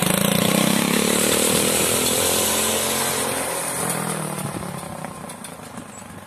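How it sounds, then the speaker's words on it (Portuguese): A JG Motos motorcycle being ridden, its engine buzzing loud and raspy at first, then fading gradually as it pulls away into the distance. "E Saúl Monteiro anda na moto da JG Motos"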